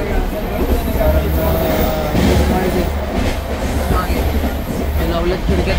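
Inside a moving train between Pune and Dadar, Mumbai, with windows shut: a steady loud rumble of wheels and carriage noise runs throughout, with faint rhythmic clatter and a few tonal squeals; some speech may be buried in the noise.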